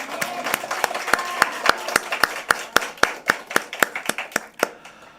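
A Korean church congregation at a Friday worship service claps together in a steady, even rhythm, each sharp clap distinct and close, with faint tones in the background at the start.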